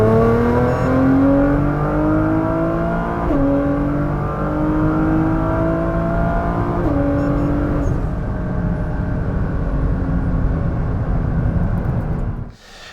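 A tuned Nissan GT-R R35 with downpipes, intakes and blow-off valve accelerates hard from 100 to 200 km/h through several gears, engine pitch climbing steadily and dropping briefly at each shift, loud and close, then cutting off abruptly.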